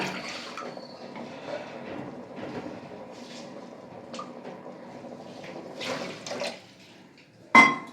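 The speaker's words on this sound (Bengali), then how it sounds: "একটু জল দিয়ে দিচ্ছি।" Water streams steadily into a pot of chana dal, a close, continuous liquid rush lasting several seconds before a brief clatter at the end.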